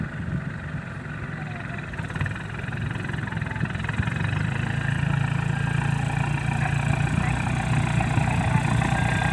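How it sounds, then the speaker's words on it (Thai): A dump truck's engine idles nearby with a rough, low rumbling exhaust exiting at the front, growing slightly louder and steadier partway through. "ทำไมเสียงท่อมันออกข้างหน้านี่"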